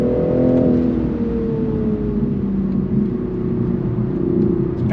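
A 2022 Toyota Supra 3.0 accelerates hard from inside the cabin, its engine note rising in a loud, smooth continuous drone, then settling as it upshifts, with no talking.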